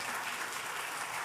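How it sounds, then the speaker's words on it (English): Brief, faint applause from a conference audience, a dense wash of clapping heard from a distance with no voices over it. "there's always this very naturally occurring, very organic yet raucous applause when I mention the city where he's from"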